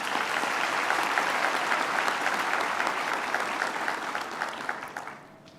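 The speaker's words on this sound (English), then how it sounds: "So let's give them a round of applause too." An audience at a university graduation ceremony bursts into sustained, dense applause that fills a large hall, holding steady for several seconds before fading out near the end.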